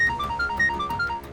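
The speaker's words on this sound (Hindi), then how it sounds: "तुम्हारा फोन बज रहा है।" A mobile phone rings indoors with a short repeating electronic melody, moderately loud and heard alone without talk.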